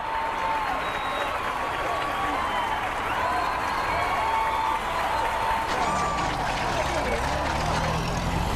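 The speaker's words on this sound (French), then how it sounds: "Nous traversons une foule en délire." A huge, delirious crowd roars and cheers in Hanoi, a dense continuous wall of voices with a vehicle engine rumbling low beneath, loud and close throughout.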